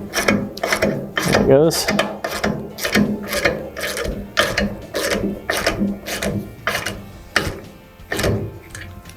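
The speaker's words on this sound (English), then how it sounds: "it compresses the valve spring down far enough to where you can get the keepers out" A ratcheting valve spring compressor being cranked on a 5.7 HEMI engine, a loud, close run of evenly spaced metallic ratchet clicks about twice a second, with a brief spoken remark partway through.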